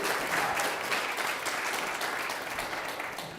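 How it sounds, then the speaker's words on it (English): An audience at a church service applauds with steady, moderately distant clapping that holds evenly for a few seconds before slowly fading. "Give them a chance to applaud."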